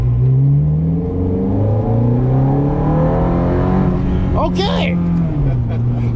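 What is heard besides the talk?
2007 Ferrari F430 engine revving and accelerating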